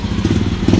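Tricycle motorcycle engine running close by, a steady low rumbling idle with a slightly uneven throb that holds for under a second, with no voices over it.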